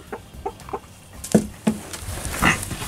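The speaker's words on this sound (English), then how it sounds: "Say hi to the chicken." Chicken clucking in a barn: several short, distinct clucks spaced irregularly, a few louder and closer, with faint farmyard background and no speech.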